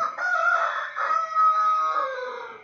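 A rooster crows loudly in a single long, drawn-out call with a rising then falling pitch, close and clear with no other sounds.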